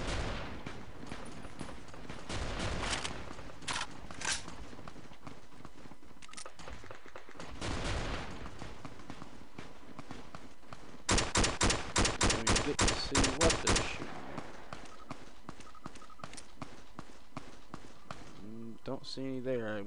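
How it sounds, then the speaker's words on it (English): A gunfight in Fallout New Vegas: rapid bursts of gunfire and rattling volleys come at a fast, irregular rhythm, with a dense cluster of sharp shots toward the middle, over a steady game ambience. "There's a gunfight going on up here."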